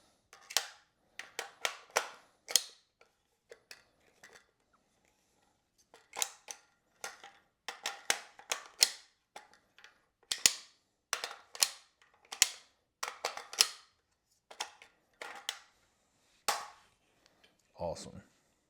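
Metallic clacks and snaps of a VZ58 rifle action being worked and an extended magazine being fitted, a quick series of sharp close clicks in bursts with short pauses, ending in a heavier rattle.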